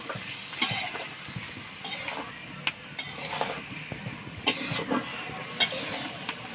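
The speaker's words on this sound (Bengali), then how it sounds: "বড়িটা একটু ভাজা ভাজা করুন।" Lentil dumplings (bori) frying in oil in a pan, a steady close sizzle with stirring scrapes and light utensil clinks, no talking.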